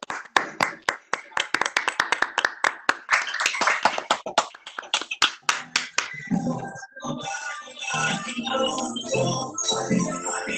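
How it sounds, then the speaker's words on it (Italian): Scattered claps from a small online audience after everyone is unmuted, sharp separate hand claps in an uneven rhythm that thin out into a murmur of mixed background voices and room noise. "unmute all e l'applauso per Alessandro"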